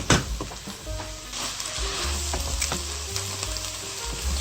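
Garlic sizzles in a pot of asparagus and leek soup while a spoon stirs it through, producing a steady close frying hiss punctuated by soft scrapes and light knocks, with no talking.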